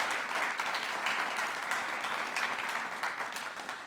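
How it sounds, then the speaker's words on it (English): At a government budget presentation, an audience gives a round of applause, a steady, even burst of clapping that swells slightly and then tapers over a few seconds. "Let's give Bob a round of applause."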